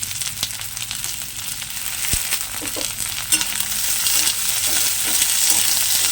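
Chopped onion and green chili fry in hot oil for a katla fish and potato chorchori, giving a steady close sizzle with occasional stirring scrapes throughout and no talking.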